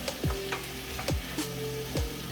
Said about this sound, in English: You make this fry up for a little while.